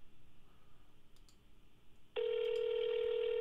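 A telephone line on a call to a realtor: faint hiss with a few soft clicks, then a steady, loud electronic tone starts partway through and holds to the end, with no talking.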